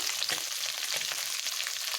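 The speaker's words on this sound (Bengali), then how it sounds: "এবারে মৌরলা মাছগুলোকে ভালো করে ভেজে দেব" Small mola carplet fish frying in hot oil in a wok, a dense, steady sizzle with crackling pops running continuously at close range, with no voices.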